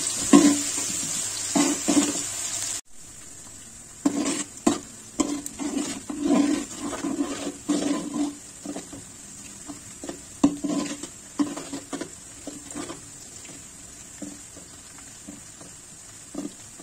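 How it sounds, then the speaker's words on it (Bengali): Onion lightly frying in a pan for a wedding-style chicken rezala, a steady hiss with repeated scraping and stirring clatters, fairly close. A brief pause near the start breaks the sizzle. "আমি একটু পেঁয়াজটাকে হালকা ভেজে নিচ্ছি।"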